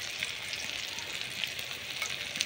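Onion, garlic and chopped tomato fry in desi ghee with a continuous soft crackling sizzle, close and even, with faint stirring underneath and no voices.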